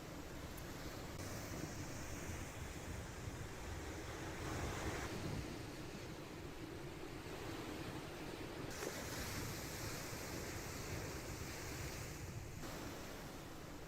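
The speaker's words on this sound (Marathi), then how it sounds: "रत्नागिरीतील दापोली इथल्या किनारपट्टी भागामध्ये मोठ्या लाटा उसळत असल्याचं पाहायला मिळतंय." Big sea waves crash and churn along the Dapoli coast in Ratnagiri during a high tide, a steady, dense roar with wind buffeting the microphone and no voices.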